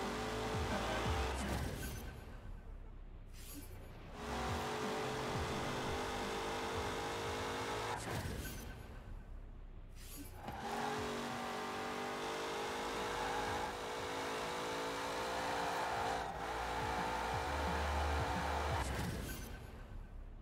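Engine roar from a car racing in Forza Horizon 4, a steady loud drone with shifting pitch and brief breaks between gear changes, running continuously with no talk.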